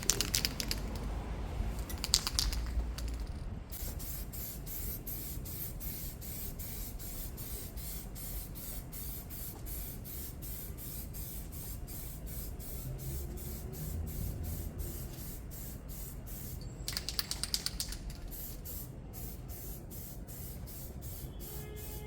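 Light coats of spray paint going onto a Nissan S-Cargo, a steady hiss running almost the whole time with a couple of louder bursts near the start and toward the end.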